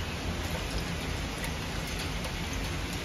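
Heavy typhoon rain from Typhoon Kong-rey in Tamsui, New Taipei City, pours in a dense, steady hiss with no speech.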